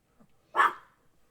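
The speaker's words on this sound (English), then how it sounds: "Fluffer Nutter Butter is still barking at Booker." A small dog named Fluffer Nutter Butter gives one sharp bark at another dog, preceded by a faint yip, close by in an otherwise quiet room.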